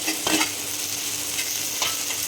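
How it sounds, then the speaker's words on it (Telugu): Onion and tomato pieces sizzle steadily in a hot pan, with a few soft stirring strokes rising briefly over the constant frying hiss. No one speaks. "ఇవాళ ఉల్లిపాయ బాగా ఫ్రై అయిపోయింది కదా ఇప్పుడు ఇందులోకి కట్ చేసుకొని పెట్టుకుని టమాటా ముక్కలు కూడా యాడ్ చేసుకుని"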